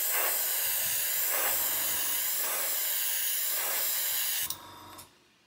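An airbrush sprays chrome paint onto a plastic model, a continuous close airy hiss that swells slightly in a few pulses and then cuts off abruptly near the end.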